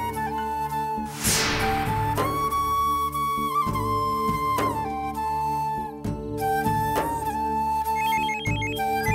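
A mobile phone ringtone plays after the handset is switched on, a bright melodic tune repeating steadily for several seconds at moderate loudness, with no voices over it.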